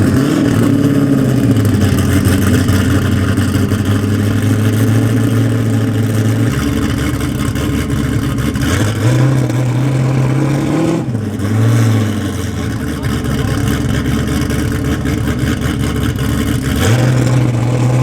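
A drag race car fitted with a trans brake, tested at a Miles of Mayhem event: its engine holds a loud, steady idle, then climbs in stepped revs and drops back several times, close by and with no voices.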